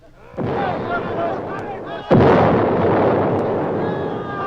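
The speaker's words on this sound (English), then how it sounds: "They're firing at us." Gunfire sound effect from a Swiss Family Robinson storybook record: a sharp close blast, then a second louder report about two seconds later, each trailing into a sustained rumbling wash of noise with voices mixed underneath.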